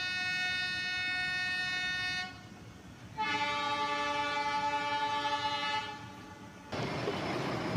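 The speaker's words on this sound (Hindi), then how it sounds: "2-3 डब्बों के लिए इतना बड़ा लोकोमोटिव लगाया है।" An Indian YDM4 meter gauge diesel locomotive hauling two or three coaches sounds two long, loud, tonal horn blasts over a steady rumbling train noise, ending in a broad rushing sound.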